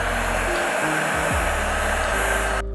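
A heat blower used on sneaker traction pads gives a steady close whirring hiss, its pitch shifting a few times as the air flow changes, before it cuts out abruptly at the end.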